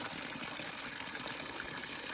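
Spring water from a mountain pours out of a rusty galvanized pipe on the Appalachian Trail, a steady close gush of splashing water with no pause.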